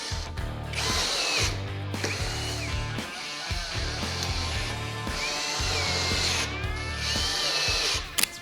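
A power drill pre-drills holes in wood for the arms of an outdoor bench, running in several whining bursts that rise and settle as the bit bites in, with brief pauses between each hole.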